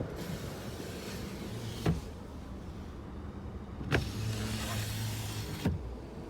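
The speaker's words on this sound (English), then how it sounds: "with the F-150 Platinum, you're going to have a rear sliding glass window." The power rear sliding glass window of a 2018 Ford F-150 Platinum pickup runs with a low motor whir, broken by three sharp clunks as it starts and stops. The sound is quiet and close, with no talking.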